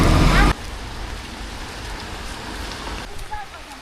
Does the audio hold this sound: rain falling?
yes